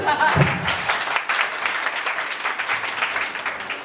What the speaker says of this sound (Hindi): ताली बजानी तो अच्छी से बजा दीजिए।